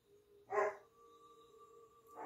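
A dog gives one sharp, close bark and then a second bark at the very end, separated by a quiet pause with a faint steady hum underneath.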